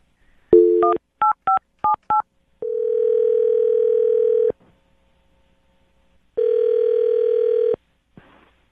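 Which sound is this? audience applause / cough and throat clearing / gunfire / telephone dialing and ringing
telephone dialing and ringing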